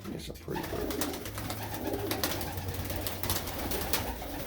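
Pigeons coo in a breeding loft, with low steady cooing and soft bird calls running throughout, fairly close, under a continuous low background hum.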